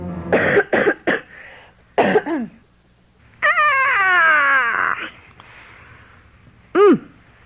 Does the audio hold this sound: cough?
yes